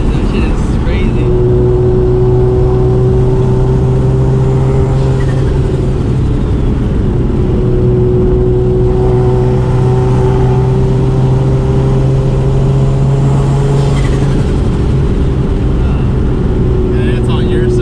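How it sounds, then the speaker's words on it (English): A turbocharged car accelerates, heard from inside the cabin as a loud, steady engine drone with a rising whine, while people talk over it. "that fucking turbo flutter. It's loud."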